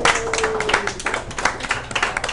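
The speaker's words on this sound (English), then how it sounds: "So please give a warm round of applause to Alicia Sparks." A live audience at a sports talk show event claps for a newly introduced anchor, with fairly close, uneven clapping from a modest crowd and a faint tonal sound early on.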